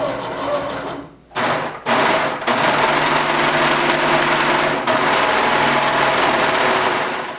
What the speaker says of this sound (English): I'm also going to serge down the edge to finish it off after I sew with a straight stitch.